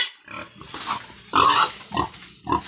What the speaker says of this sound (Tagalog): Masiwal ang ating baboy, masiwal. Ayaw lumakad.